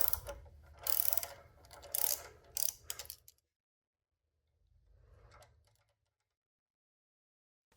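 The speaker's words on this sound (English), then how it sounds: "Use a 16mm socket and wrench to remove the flange nut from the right crank arm." Socket wrench loosening a 16mm flange nut on the right crank arm of a Bowflex C7 exercise bike, with close, loud ratcheting clicks in several quick bursts, then a quieter stretch of softer ratcheting.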